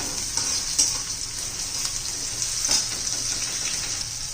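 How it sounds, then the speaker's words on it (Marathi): Chopped onion sautés in a pan until translucent, giving a steady, close sizzle with a faint crackle and an occasional soft stir, and no talking. "आता कांदा जरा कलर बदलू द्यायचा आहे, ट्रान्सपरंट होऊन द्यायचा आहे"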